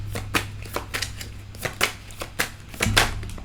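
Tarot cards being shuffled by hand, a run of soft crisp flicking and riffling taps in an irregular rhythm over a low steady hum, close and fairly quiet.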